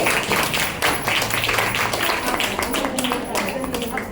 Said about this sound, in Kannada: ಎಲ್ಲರೂ ಚಪ್ಪಾಳೆ, ಮಕ್ಕಳು ಚಪ್ಪಾಳೆ ಕೊಡಿ.